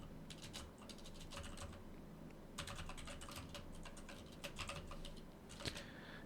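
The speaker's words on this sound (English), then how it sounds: "I'm going to be typing in here" Computer keyboard typing in steady bursts of quick clicks, pausing briefly and resuming, close and fairly quiet, with no talking.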